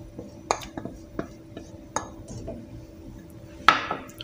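Butter chicken with added butter is stirred in a pan, producing scattered metallic clinks and scrapes of a spoon against the pan, sparse and close, with a sharper clack near the end.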